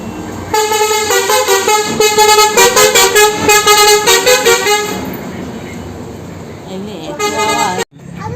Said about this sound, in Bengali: এটা বাস দেখ আসছে